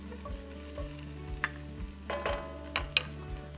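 Garlic fries in light olive oil in a pan, giving a soft, continuous sizzle broken by a few sharp clinks and scraping stirs.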